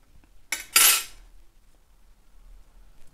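Crochet yarn snipped after a chain stitch while making a small crocheted flower, heard as two close, quick metallic scissor snips near the start, followed by quiet.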